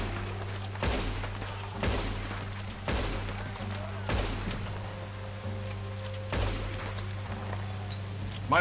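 Repeated gunshots in the Western video game Red Dead Redemption, about one per second in bursts over a steady game hum, moderately loud and close.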